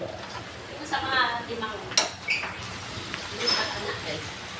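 A spoon stirs sinigang na liempo pork soup in a metal pot, giving light scrapes and clinks with one sharper knock, while a person talks over it.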